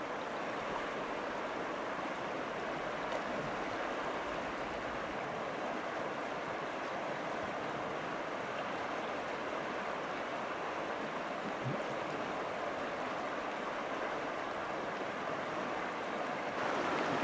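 River water rushing steadily during a raft crossing on an Idaho bighorn sheep hunt, a constant broadband wash of flowing current with some wind, moderately distant and unbroken throughout.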